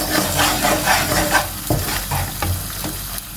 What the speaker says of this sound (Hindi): स्लो फ्लेम पे हम इसको अच्छे तरीके से भून लेंगे।